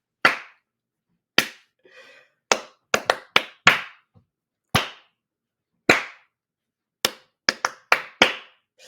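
Sharp, sparse hand claps ring out one at a time in a loose, uneven rhythm, each crisp and close, with short silences between and a faint murmur in one gap.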